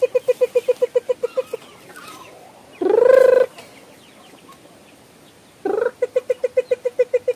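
Chickens give rapid, rhythmic clucking in a steady run of pulses. A louder drawn-out call breaks in midway, then the clucking starts again, near and clear.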